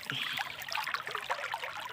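Sea water flows and trickles around a person soaking in the sea, a close, continuous bubbling gurgle with light splashy detail.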